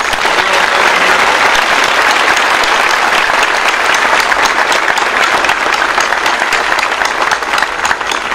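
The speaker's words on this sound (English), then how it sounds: "How about another round of applause for Colonel Fox?" A crowd at a high school JROTC commissioning ceremony gives a long, loud round of applause, many hands clapping in a dense continuous roar with no voices over it.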